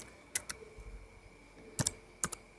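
Typing on a computer keyboard while entering an IP address in a VirtualBox networking setup: a few sparse, crisp key clicks in small pairs, quiet and close, against a faint hum.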